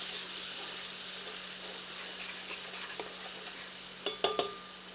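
Ginger garlic paste frying in hot oil with whole dry spices over medium heat, a steady close sizzle with a few soft stirring clicks and utensil knocks near the end.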